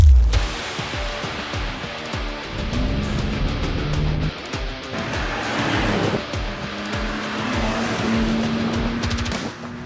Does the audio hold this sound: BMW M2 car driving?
yes